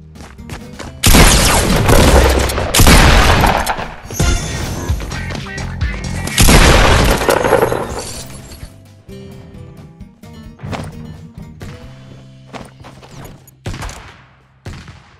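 Loud gunfire and crashing explosions from the Fortnite video game come in dense bursts early on, then fade to scattered shots and thuds with game sounds, all close and harsh.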